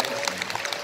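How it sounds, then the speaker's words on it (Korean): Audience applause during a wedding ceremony, brief scattered clapping from a crowd heard at a moderate distance, fairly soft and dense throughout. "박수를 주시고요"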